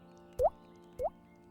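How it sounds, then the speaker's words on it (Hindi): Two distinct water drops from a leaking roof plop at a slow, steady interval against a quiet, humming background. "छत के बीचों बीच से बूंदें गिर रही थीं"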